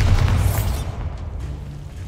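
A Bombarda blasting spell goes off in Hogwarts Legacy, a single heavy, booming explosion with a sharp burst at the start and a rumbling tail that fades out, with no one talking over it.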